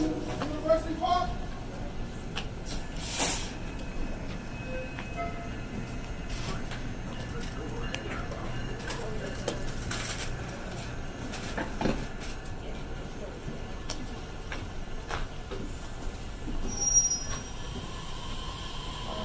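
A Chicago commuter train rolls along with rumbling wheels and intermittent metallic squeals and screeches, heard from aboard at moderate distance, with people talking faintly throughout.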